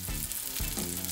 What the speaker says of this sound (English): We're gonna get the potatoes frying and the onions cooking at the same time.